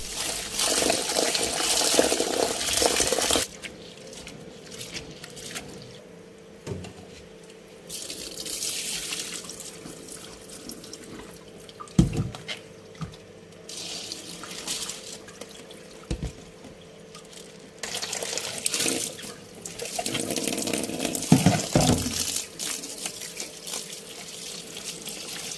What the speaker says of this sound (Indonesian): Langkah selanjutnya kita cuci hingga bersih.